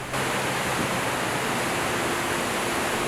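Steady, dense roar of a large African waterfall, a continuous broadband rush of falling water with no breaks or voices, loud and even throughout.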